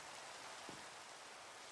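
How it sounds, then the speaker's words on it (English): Rain falls in Minecraft as a faint, even hiss of steady rainfall, with one soft low thump partway through. "Rain."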